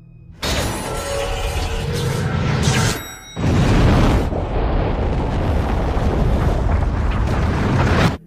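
A bomb blasts apart a building lobby in The Matrix, a loud roaring explosion with shattering glass and debris, a brief dip, then a second sustained wave of crashing rubble.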